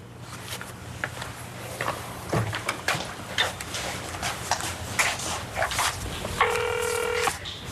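Touch-tone keypad beeps sound near the end as a house phone is dialed, preceded by scattered clattering and footstep-like noises in a quiet room.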